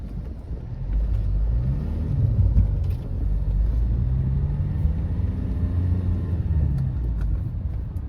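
A motor vehicle approaching on a narrow road in the Konkan region gives a close, continuous engine rumble that rises slightly and holds steady for several seconds.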